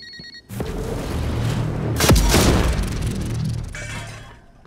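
A recycler grenade goes off in the sci-fi game Prey: a sudden loud burst with a sharp crack, then a swelling roar of swirling, crackling debris that holds for a couple of seconds before slowly fading out.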